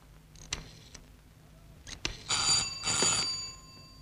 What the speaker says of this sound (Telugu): నువ్వు ఫోన్ కొట్టు, నేను మాట్లాడతాను